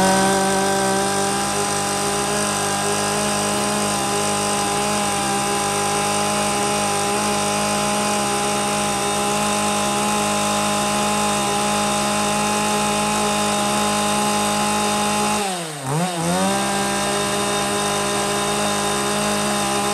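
A Japanese chainsaw with an Echo engine idles and runs in a loud, steady buzzing drone close by, with a brief dip and rev of the engine near the end.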